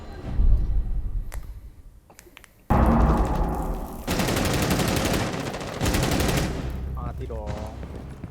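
Rapid bursts of shotgun gunfire in a video game, loud and repeated in several dense volleys with short gaps, with brief speech at the end.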